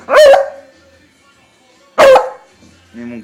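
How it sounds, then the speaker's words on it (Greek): A female beagle lets out two loud, sharp barks about two seconds apart, close up, with a brief quieter sound trailing at the end. "Μη μου κάνεις εμένα γάβ."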